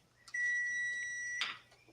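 A kitchen appliance at a Pampered Chef home party gives a sustained electronic beep tone of about a second, preceded by a brief chirp and ending in a short clatter.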